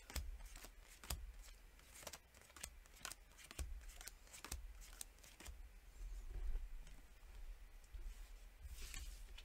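Playing cards from a Papillon card game are dealt one after another onto a surface, a series of faint, crisp slaps and flicks at an uneven rhythm, quiet and close with no voices.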